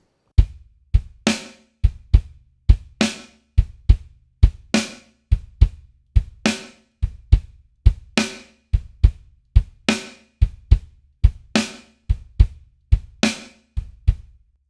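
Drum kit playing a song's verse groove with the hi-hat left out, just kick and snare: a steady, punchy pattern of sharp close hits repeating evenly, loud and dry, with no voices.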